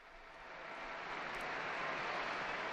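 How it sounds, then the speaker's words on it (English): A large crowd in St. Peter's Square cheers after a papal blessing at the Angelus, heard as a broad, sustained roar of many voices and applause that swells and holds steady throughout, with no speech over it. "the crowd in St. Peter's Square respond with cheering"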